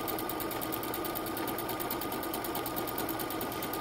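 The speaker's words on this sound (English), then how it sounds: "I'm going to sew a buttonhole right in here. Thankfully, my machine is super awesome and does this automatically" An automatic sewing machine stitching a buttonhole in fabric, a steady fast mechanical whir and rattle at an even pace, close and constant throughout with no voices.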